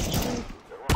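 A burst of CS:GO gunfire crackles for most of the moment, fades briefly, then another sharp blast hits loudly at the end.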